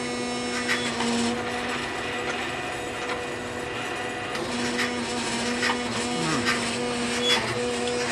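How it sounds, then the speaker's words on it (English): Homemade DIY CNC machine driven by a standard DIY router, a steady loud mechanical whine and hum with whirring stepper tones shifting throughout, running alone without voices. "You'll notice also that I'm using a standard DIY router."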